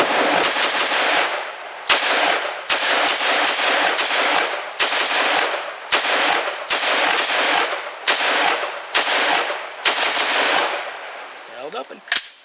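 A SIG PE90, the Swiss civilian SG550 competition rifle, fires at an outdoor range: a steady series of loud, sharp single shots spaced about half a second to a second apart, each with a ringing tail.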